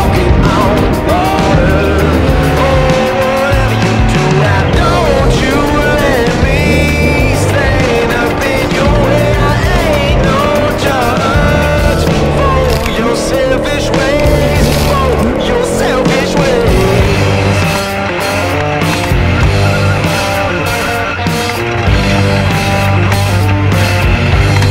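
A dirt-track race car engine screams at about 9,000 RPM, loud and continuous throughout, with a sharp whining edge and road noise underneath.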